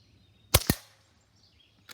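A QB78 .22 caliber air rifle fires a 14.2 grain Grizzly pellet: one sharp crack followed closely by a second snap, likely the pellet striking, then quiet, with another click starting at the very end.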